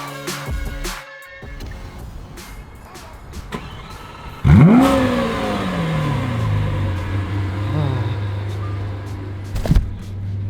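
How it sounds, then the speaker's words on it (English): A Lamborghini V12 with what seems a factory sport exhaust revs hard about halfway through, a loud rising and falling roar after quieter idling, then settles into a steady rumble before a short second blip near the end. "Nothing like a V12."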